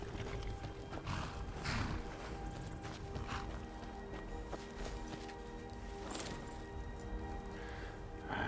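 Horses clip-clop and stir in Skyrim, soft hoof sounds and occasional movement under a steady game backdrop, faint and moderately distant.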